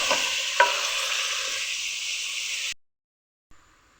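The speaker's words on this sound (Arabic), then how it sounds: "نخلوها تقلى شويه من بعد نمرقو" Olives frying in a pan with chicken for a pepper and olive tagine, a loud close hissing sizzle with a sharp crackle early on that cuts off suddenly, followed by near silence and a faint clink.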